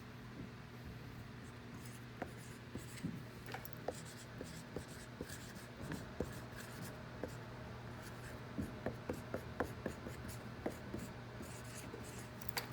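A pen writes numbers by hand on paper, with close, quiet scratching strokes and light taps in irregular bursts over a low steady hum.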